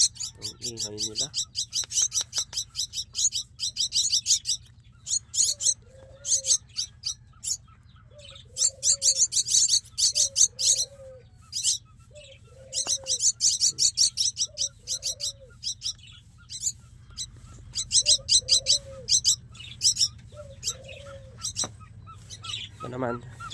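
Lovebirds chirp noisily in rapid bursts of shrill tweets filling the space, with soft coos below and a steady low hum running throughout.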